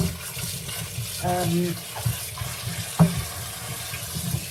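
Vegetables and fruits rinsed under running tap water, a short burst of splashing and flowing water into a sink with a few clunks, while a person talks over it.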